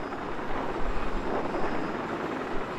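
A steady, broadband whir of a helicopter rotor in Battlefield 4 drones evenly, moderately loud and without pauses.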